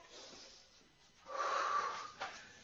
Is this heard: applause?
no